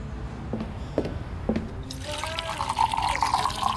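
Water pours into a glass, a rising gurgling fill that starts midway after a few soft knocks and clinks, in a scene from the movie Gnome Sweet Home.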